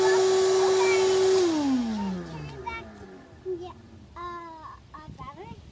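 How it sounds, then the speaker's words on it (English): A vacuum cleaner used to clean a truck hums loudly and steadily, then winds down as it switches off, and a voice chatters afterward. "How about we just vacuum the truck?"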